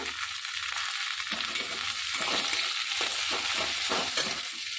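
Chopped tomatoes hit a frying pan with ginger and sizzle loudly, while a utensil scrapes and stirs in short strokes.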